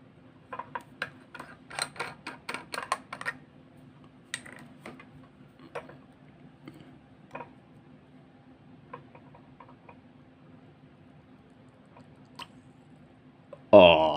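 Small plastic clicks and ticks from filling a Wing Sung 3013 vacumatic fountain pen, with a quick cluster of taps early on, then sparse faint clicks over a low hum, ending in a louder rustle.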